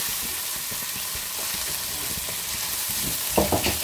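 Sausage and potato stew in tomato sauce sizzles loudly in a pan while being stirred, a constant frying hiss with scraping spoon strokes and a few louder knocks near the end.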